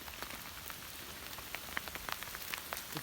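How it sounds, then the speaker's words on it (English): Small hail pellets fall and bounce on the Interlaken Trail at Twin Lakes, Colorado: scattered sharp ticks and taps over a soft steady hiss, irregular and fairly faint, with no talking. "I can see the hail. We've got hail."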